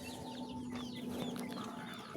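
Chickens, including chicks, cluck and chirp softly nearby in a short burst of scattered calls over faint background noise.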